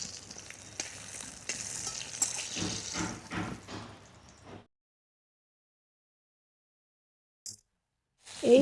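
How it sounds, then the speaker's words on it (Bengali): Eggplant pieces fry in oil with steady sizzling and stirring scrapes for about four seconds, then drop to silence, with a brief clatter near the end. "তেলে বেগুনে এক করে বেগুনগুলোকে লেড়ে নিব"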